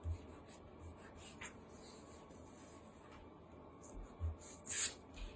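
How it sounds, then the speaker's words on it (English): A pencil eraser rubs across a graphite sketch on paper, making faint, soft scrubbing strokes that come and go quietly, with a few slightly louder rubs toward the end. "go in with your eraser and erase the lines you don't need"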